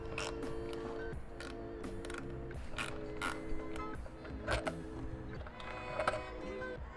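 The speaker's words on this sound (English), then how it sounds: "Next, we remove the idle air valve." Hand tools removing the idle air valve from a car engine during a turbo install, with steady ratcheting clicks and small metallic taps and creaks, close and continuous.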